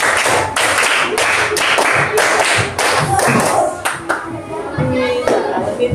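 Fifth-grade children in a classroom clap in short bursts of rhythmic hand claps, pausing between groups, with a lively room and occasional voices around them.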